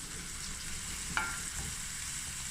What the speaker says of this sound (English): now we're just going to stir fry this for a few minutes. And we'll just up the heat.